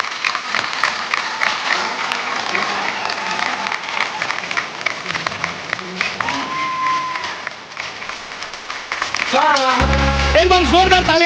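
Studio audience applause welcoming Akshay Kumar and Sonakshi Sinha on The Kapil Sharma Show, a dense clapping wash with cheers, voices talking over it and music rising near the end.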